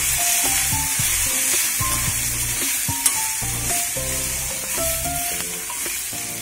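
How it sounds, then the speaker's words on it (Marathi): Spices sizzle steadily in hot oil for a Marathi kantoli vegetable dish, a dense hiss with occasional stirring knocks, close and loud under a background melody. "मसाले सुद्धा व्यवस्थित तेलामध्ये परतून घ्यायचे"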